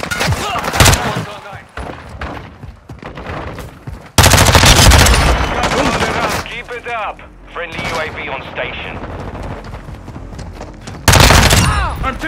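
Loud bursts of rapid gunfire and heavy automatic fire from a military shooter video game, with breaks between volleys and voices shouting over the action.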